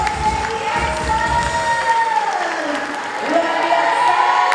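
An audience in a church main hall claps and cheers at an inauguration and anniversary celebration in Purbalingga. The applause is steady and moderately loud, and a sustained voice or tone rides over the crowd noise throughout.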